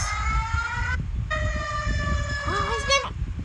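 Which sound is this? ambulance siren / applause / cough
ambulance siren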